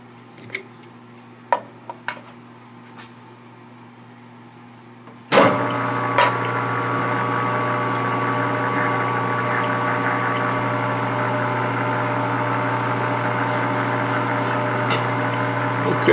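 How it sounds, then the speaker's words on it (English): After a few faint clicks and taps, a Grizzly G4003G lathe starts up abruptly and runs with a steady motor whine and hum, close and constant for the rest of the clip while drilled holes are chamfered. "now I'm going to put all of those, chuck all of those back up and chamfer those holes"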